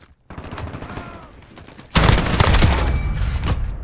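Heavy gunfire in Call of Duty Modern Warfare: a steady crackle of shots that swells into a loud, dense burst of automatic fire and explosions, close and sustained.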